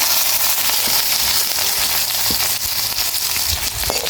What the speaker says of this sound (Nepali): सुरुमा राखेँ मैले अलिअलि जिरा, त्यसपछि प्याज